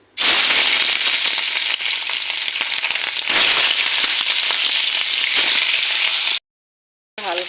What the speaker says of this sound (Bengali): তো চলো ক্যাপসিকামগুলো একটু ভেজে নিই।